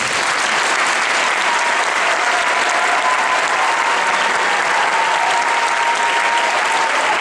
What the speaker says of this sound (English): Wherever she is, let's give her a round of applause.